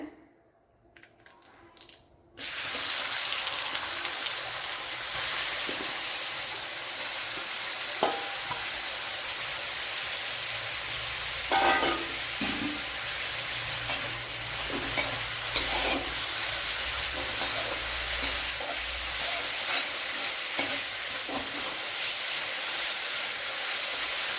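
Bitter gourd fries in hot oil for an Onam pachadi. A steady, loud sizzle starts after a short quiet opening and continues with occasional stirring scrapes and clinks.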